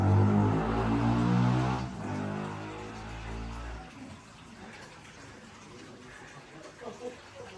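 An indoor waterfall in a children's play centre at Lizard, Cornwall; close, rushing water runs strongly for a few seconds, then drops to a fainter wash with scattered soft room sounds and faint voices.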